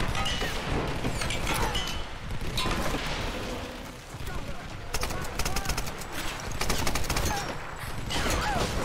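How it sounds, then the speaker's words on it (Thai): Rapid, sustained gunfire in the Tomb Raider video game, loud bursts of automatic fire and heavy impacts rattling on almost continuously, with a player speaking over it. "ยิงรัวมาก"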